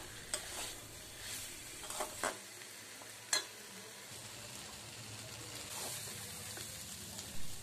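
Potatoes are stirred and sautéed in a pan with a faint, steady frying hiss and occasional scraping and clinking from the utensil.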